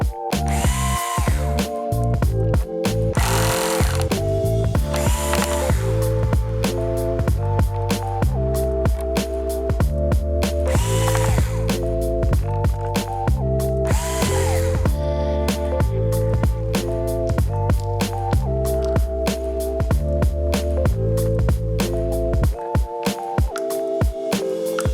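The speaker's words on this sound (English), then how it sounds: "now you can take the 4 screws out of the LCD" A screwdriver ratchets and clicks while the four screws holding the LCD panel of an Acer Chromebook 511 C736 are backed out, loud and close, with rapid repeated pawl clicks continuing throughout.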